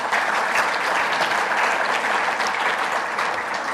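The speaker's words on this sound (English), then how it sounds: "A big round of applause to all of our supporters." Conference audience at the 96th International Convention of the International Propeller Club giving a big round of applause to supporters, a full, even roar of many hands clapping close and loud throughout.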